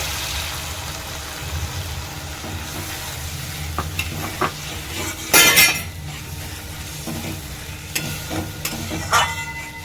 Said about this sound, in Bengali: তার আগে আমি দিচ্ছি এক কাপ দুধ।